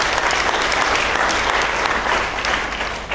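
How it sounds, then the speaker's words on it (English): Audience members applaud two photo competition winners with a loud, close burst of clapping that stays dense throughout and dips slightly at the end. "So how about we give them a round of applause?"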